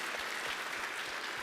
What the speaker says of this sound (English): give him some claps